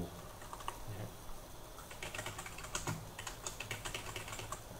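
Quick, light clicks of fingers typing text on a computer keyboard, close and faint, in short irregular bursts with brief pauses between keystrokes.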